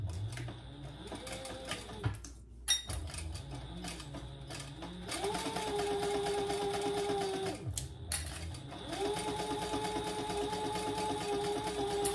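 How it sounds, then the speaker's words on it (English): A sewing machine stitches pink lining fabric along the seam allowance, running in steady whirring bursts that stop and restart with brief pauses, close and moderately quiet. "we're going to sew that together at the seam allowance in the pattern"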